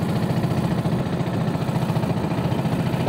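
A small motorboat engine drones steadily and loudly with a fast, even pulsing throb, close and continuous, on a fishing trip out to an island.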